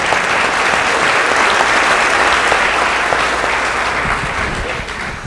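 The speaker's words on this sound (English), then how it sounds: "please, give yourselves a much heartier and deserved round of applause" A large audience at a public talk claps in a dense, sustained round of applause that holds steady and fades slightly at the end.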